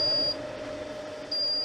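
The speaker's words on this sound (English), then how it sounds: "Well, I hear beeps." Two short, clear electronic beeps from a device, one near the start and one near the end, each a steady high tone over a constant low hum in a quiet room.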